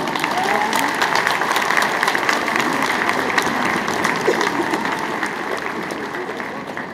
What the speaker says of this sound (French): avec un tonnerre d'applaudissements pour Epona.